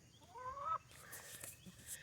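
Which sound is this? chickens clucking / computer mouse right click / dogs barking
chickens clucking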